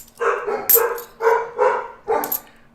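Dogs bark in five sharp, close bursts spaced roughly half a second apart, loud and alone against a quiet background hum.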